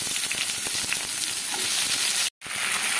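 Mushrooms sizzle loudly in hot mustard oil in a wok, a dense, steady crackling hiss that cuts out briefly near the end and then resumes.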